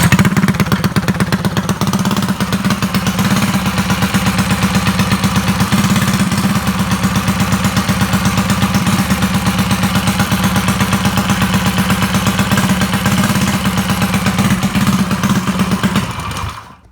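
An engine on a homemade dyno runs loudly and steadily at close range, a constant rapid pulsing drone that holds for about sixteen seconds and then cuts off.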